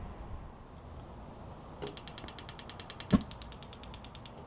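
A Gozney Tread pizza oven starts up with a rapid, evenly spaced run of clicks from its igniter, close and fairly quiet, with one sharper knock partway through.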